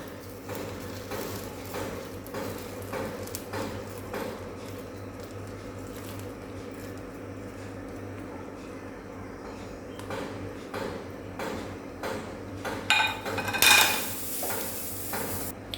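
A pot of caramel on the stove has hot milk stirred into it, producing a steady low simmering hiss with soft scraping and stirring strokes throughout, ending in a brief, brighter sizzling burst.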